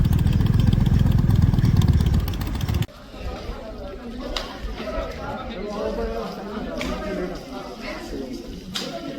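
A motorcycle engine runs loudly at first, then drops to a lower, rougher idle with people talking nearby, in the Spiti Valley.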